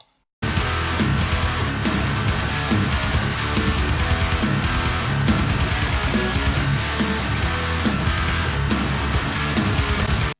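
Reamped, gated distorted electric guitar tracks in a final mix play dense and loud throughout, a steady wall of chugging riffs with drums from start to finish.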